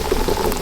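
Boiling water poured for gravy, a short gurgling, bubbling liquid splash heard up close with no voices.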